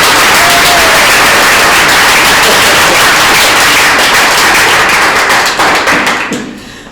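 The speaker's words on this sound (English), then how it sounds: "I think you deserve a round of applause." Guests at a wedding ceremony break into loud, close, sustained applause right after the vows, a thick wall of clapping that thins into scattered claps near the end.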